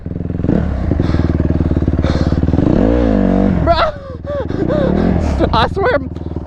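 Dirt bike engine revving loudly and continuously while riding through mud, with a steady drone dipping and surging, joined by excited shouts and exclamations from the rider.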